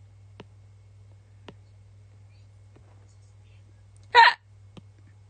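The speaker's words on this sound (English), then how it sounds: "that was a weird ass hiccup." A single sharp hiccup sounds close and loud from one person in a quiet room. Faint clicks are scattered before and after it.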